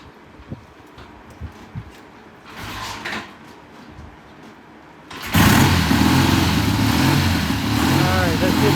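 Triumph motorcycle kick-started, its engine catching and running loud and steady after quieter kicking and mechanical clunks, with people talking and laughing in a shop beforehand.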